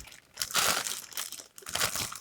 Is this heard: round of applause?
no